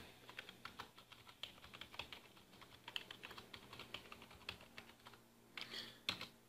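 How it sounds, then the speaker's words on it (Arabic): Someone typing a password on a computer keyboard, a close, quiet run of quick irregular key clicks with a brief flurry of keystrokes near the end. "وفي الخانة الرابعة نعيد كتابة كلمة المرور"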